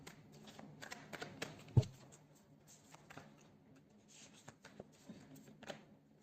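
A Moon Oracle deck of cards being shuffled close by, with a run of soft riffling flicks and taps, one sharper knock, all quiet with no talking.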